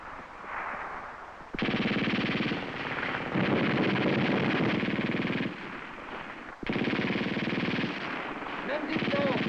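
Sustained bursts of infantry rifle and machine-gun fire from a 1970s Swiss Army combat drill, loud and dense, in long volleys broken by brief pauses, with echoing reports and voices mixed in.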